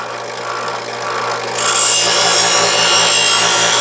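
A kitchen knife drawn through a Chef's Choice Trizor XV electric sharpener, the motor humming steadily until a loud, rough grinding rasp takes over partway through and continues, close and without speech.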